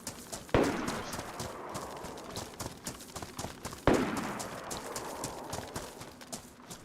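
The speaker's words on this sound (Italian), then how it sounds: "Vengono gli spari." Two sharp gunshots ring out in a zombie apocalypse video game, each a sudden loud crack with a long echoing tail, a few seconds apart over a busy background.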